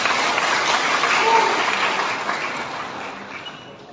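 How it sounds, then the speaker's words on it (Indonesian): Applause from an audience at a public ceremony with a regent, a broad steady clatter of clapping that gradually fades over a few seconds. "Tepuk tangan untuk kita semua"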